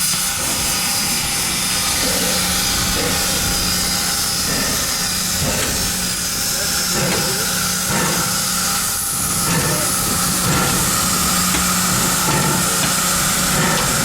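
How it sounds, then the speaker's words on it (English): Steam hissing from the Nickel Plate Road 765 Berkshire steam locomotive in Indiana, a loud, continuous broadband hiss filling the whole stretch alongside a low idling rumble, close by. "I'm getting blasted with steam right now."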